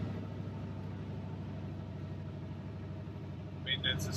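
A 2006 Toyota Tundra with true dual exhaust and cheap replacement catalytic converters idles with a steady low rumble, and a few brief high chirps come near the end.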